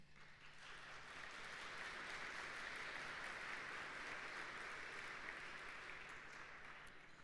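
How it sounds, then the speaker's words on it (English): An audience at a community benefit breakfast applauds with steady, sustained clapping that swells and holds for several seconds, faint and distant in the room. "That applause is for you"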